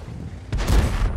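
A heavy tank cannon blast in the World of Tanks game, a single loud booming shot that swells in and rumbles on without any talk.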